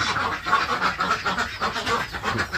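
Several Yi-Liang ducks quack close by in a rapid, continuous chattering chorus with no break.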